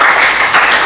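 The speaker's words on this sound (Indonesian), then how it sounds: "Oke, tepuk tangan dulu." A classroom of students gives a short burst of applause, dense overlapping clapping that stays loud and steady for under a second.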